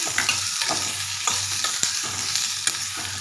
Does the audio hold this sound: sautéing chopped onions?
yes